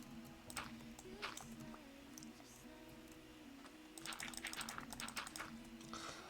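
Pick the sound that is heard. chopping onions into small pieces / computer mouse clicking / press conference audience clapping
computer mouse clicking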